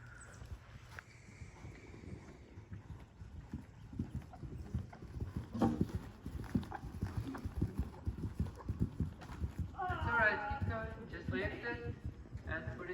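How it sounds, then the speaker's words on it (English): A horse canters around a riding ring in a working equitation clinic, its hoofbeats a soft, steady rhythmic thudding heard fairly close. An instructor's voice speaks faintly now and then over the hooves. "put him in a nice canter"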